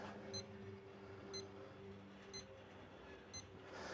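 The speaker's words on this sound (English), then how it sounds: "Oh, there goes the alarm." A faint alarm beeps four times at a steady once-per-second rhythm, each beep a short bright chirp over a low background hum near a Weber Smokey Mountain smoker.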